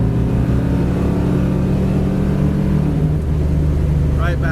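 A 1967 Chevy Camaro engine pulling hard in fourth gear, a loud, steady low-pitched drone heard from inside the car, with a voice speaking briefly near the end.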